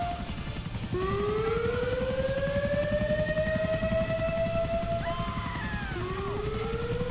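Constant rotor thumping from a police helicopter in the game GTA IV fills the scene, loud and close, with sliding siren tones sweeping over it.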